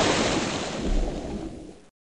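Pacific Ocean surf rolls in as one steady, loud wash of breaking waves, with a low rumble swelling near the middle before the sound cuts off.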